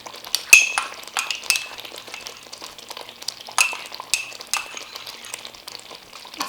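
Cream is stirred into butter chicken in a pan, a spoon scraping and clinking against metal in irregular, close strokes with soft sizzling between them, and no talk.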